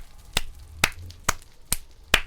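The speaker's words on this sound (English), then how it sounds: "look, I'm clapping" One person clapping five times at an irregular pace, each sharp, dry clap close and alone with nothing else around it.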